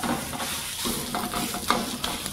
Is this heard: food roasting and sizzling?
yes